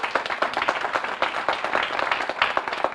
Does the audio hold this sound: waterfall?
no